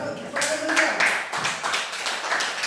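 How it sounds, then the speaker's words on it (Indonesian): Classroom students clapping for a group presenting on photosynthesis in a fourth-grade lesson, a brief scattered round of claps with voices mixed in. "Tepuk tangan buat kelompok."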